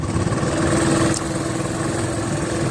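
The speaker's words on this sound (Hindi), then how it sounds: "अभी ट्रैक्टर जा रहा है।" A tractor engine chugs steadily at mid pitch as it passes along a rough, bumpy village road, a continuous close rumble with no talk.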